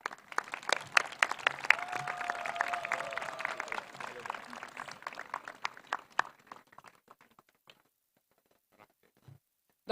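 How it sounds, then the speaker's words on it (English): School awards ceremony audience applauding for an honoree, a burst of clapping with a voice or tone briefly heard over it, thinning into scattered individual claps and then near silence. "please a big hand of applause for Dr. Solomon"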